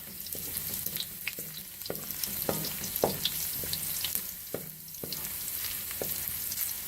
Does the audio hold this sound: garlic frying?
yes